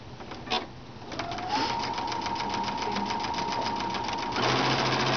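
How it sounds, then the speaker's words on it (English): Sewing machine fitted with a quarter-inch foot and guide, stitching around the edges of a chevron quilt. A steady, close mechanical whir speeds up after a soft start and holds a fast, even needle rhythm. "And you're going to sew all the way around all 4 edges."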